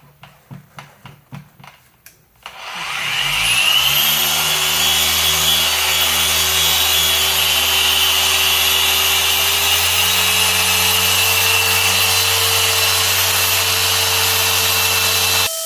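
A machine polisher whirs steadily on solid black car paintwork during paint correction, spinning up after a few seconds of knocking and holding a loud, continuous tone close by.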